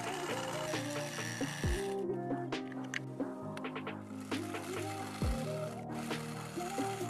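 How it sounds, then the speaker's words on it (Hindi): A sewing machine stitches sofa fabric with a quiet, rapid mechanical clatter and rattle, broken by short pauses and a few brief knocks as the cloth is handled. "लाइन बराबर सिलाई कर लेना।"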